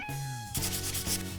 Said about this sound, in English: Now we're going to sand this baby smooth.